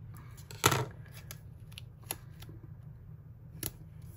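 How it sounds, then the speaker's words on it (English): Scissors trim the bottom edge of paper for a Happy Planner vertical layout, giving one brief close snip followed by a few faint cuts and light paper rustles in a quiet room. "I'm gonna trim the bottom just flat."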